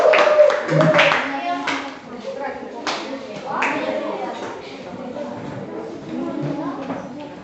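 A seventh-grade social studies class claps for a group that has just presented, scattered rhythmic hand claps mixed with voices talking over them in a classroom.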